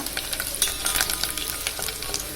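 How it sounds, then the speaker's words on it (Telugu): Curry leaves sizzle and crackle in hot oil for a Telugu-style tamarind curry, a steady close frying hiss with small pops and no talking. "కొంచెం కరివేపాకు వేసుకోవాలి కొంచెం వేగాక"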